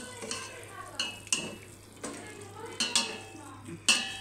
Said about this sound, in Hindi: तो अभी निकालते हैं, इसको डिश आउट करते हैं।